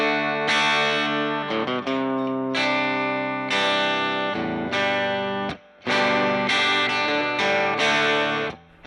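Glarry Tele-style electric guitar played through an overdriven Fender Blues Junior amp, crunchy distorted chords ringing out in strummed bursts with short breaks between them.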